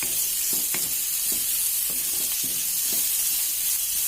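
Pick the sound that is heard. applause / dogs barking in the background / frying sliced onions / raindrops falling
frying sliced onions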